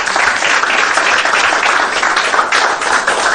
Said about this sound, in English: Can we welcome him with a round of applause?